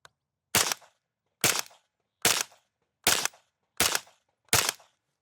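Six single shots from an FN P90 submachine gun, evenly spaced about a second apart, loud and sharp with short decays and silence between them.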